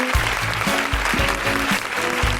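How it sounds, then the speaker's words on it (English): An audience at a live podcast recording applauds steadily for a couple of seconds, with a stepped musical tune playing beneath the clapping. "Big round of applause for Leah Sapin."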